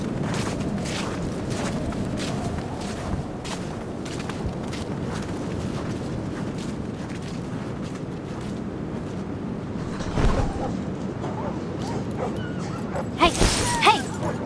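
A dog in the Reverse: 1999 video game barks and whimpers amid a steady background score, short yips scattered over the stretch with a louder burst near the end.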